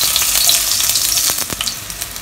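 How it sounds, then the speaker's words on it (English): Sliced ginger hits hot oil in a wok, giving a loud, close, steady sizzle that fades slightly as a few stirring scrapes come through, with no one speaking. "Once the oil has heated up, add in 4 pieces of sliced ginger"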